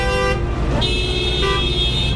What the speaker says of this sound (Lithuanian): Ir su daug pypsinių. Pasieksiu šito niujorkietiško garso.